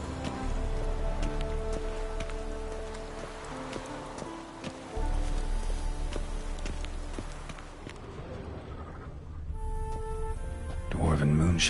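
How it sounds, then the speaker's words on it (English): Steady rain pours across the world of The Witcher 3, a constant hiss of drops on surfaces with horse hooves clopping underneath and muffled voices drifting in and out. "no use doing any work in this rain"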